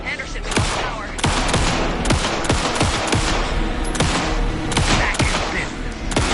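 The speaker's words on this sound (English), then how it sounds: "pin him down with gunfire for me to get the light on him" Rapid bursts of gunfire in Alan Wake 2, loud and close, sharp cracks fired in quick strings across the whole stretch with only brief gaps.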